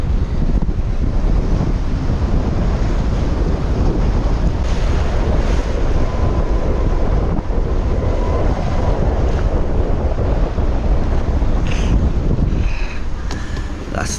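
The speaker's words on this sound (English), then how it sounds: "Still very windy." Strong gale winds buffet the microphone aboard a sailboat at sea, with waves surging and crashing steadily throughout and a few brief creaks near the end; no talking.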